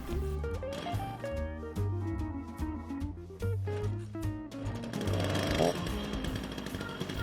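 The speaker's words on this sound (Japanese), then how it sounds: "それではチェーンソーを使って板に製材します。" A Shindaiwa E1045S chainsaw rips freehand lengthwise through a log to mill a board, a loud, continuous close engine whine that rises and falls in pitch as the chain bites into the wood.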